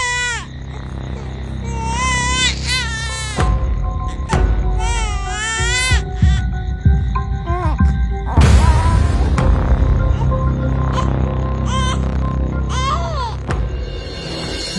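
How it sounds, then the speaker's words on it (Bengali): An infant cries loudly in repeated wavering wails, pausing briefly between bursts, close and insistent. "এটা তো বাচ্চারই কান্না"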